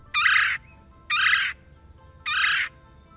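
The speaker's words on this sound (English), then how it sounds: "here we have the red-bellied woodpecker. You'll most likely hear this woodpecker before you see him." A red-bellied woodpecker gives three evenly spaced, rolling calls about a second apart, fairly close and clear over a quiet backyard background.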